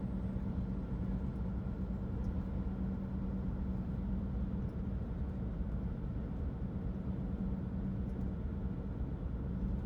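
A semi tractor reversing slowly toward a trailer to couple at the fifth wheel, heard as a steady, even low engine drone with no distinct events over the whole stretch.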